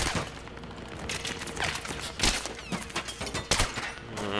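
Dense gunfire from Battlefield 3 rattles through the whole stretch, overlapping bursts and loud close shots stacked into a continuous fusillade with no talk.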